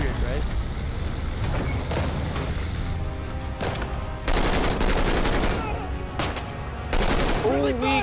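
Sustained gunfire bursts from the video game Call of Duty: Vanguard, loud and dense with heavier volleys near the end, while a player talks over the battle noise.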